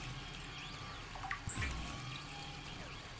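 Water collected in a survival game at an alien ruins outpost: a soft trickling, liquid pour with a gurgling splash midway, quiet and steady against a faint ambient hum.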